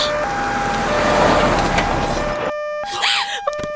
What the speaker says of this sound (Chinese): 救护车来了！